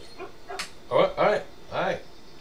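Dog in the video game MTG Arena giving several short yips and whimpery barks in quick succession, mid-level and close, with talk around them.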